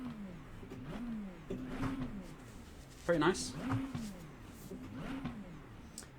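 A McLaren 720S GT3 EVO engine in the iRacing video game revs up several times in repeated rising bursts, with one sharper bark midway, heard fairly quietly beneath a speaking voice.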